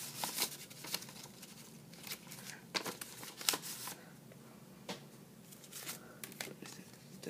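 Scissors cut open a mailed Pokémon card trade package, a run of crisp snips and crinkling paper and plastic, fairly quiet and close, with no talking.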